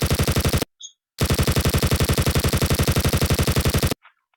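Video game gunfire in rapid automatic bursts, two long loud strings of evenly spaced shots separated by a short pause, with brief faint sounds in the gaps.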